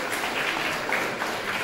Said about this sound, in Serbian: Inače, aplauz